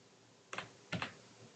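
A few quick keystrokes on a computer keyboard, two short clustered clicks, close and quiet in an otherwise still room.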